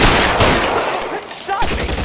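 Rapid gunfire in L.A. Noire crackles loud and close in dense bursts that ease briefly, then pick up again.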